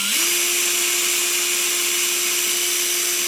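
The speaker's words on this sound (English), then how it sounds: "Slow speed on the drill." A power drill hums at a low, steady speed while installing a ceiling speaker, its motor tone holding constant and close throughout.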